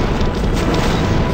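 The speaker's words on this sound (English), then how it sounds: "Fire all the missiles." Missiles launch and burst in the action game Hero Siege as a loud, dense rumbling roar that fills a short moment without letup.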